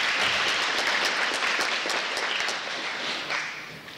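Grade 8 students at a high school induction give themselves a short round of dense applause, steady and close, tapering off toward the end.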